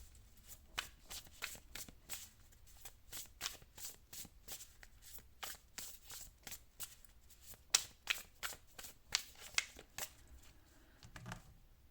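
Oracle cards are shuffled by hand in a quiet room, a long run of quick, crisp riffling flicks in an uneven rhythm, close and soft, with no voices.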